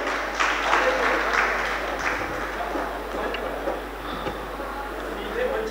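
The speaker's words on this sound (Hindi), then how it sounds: "एक बार जोरदार तालियां लगना चाहिए" Steady, dense crowd applause fills a Hindi poetry gathering in Kashi, sustained clapping from many hands with a voice faintly underneath.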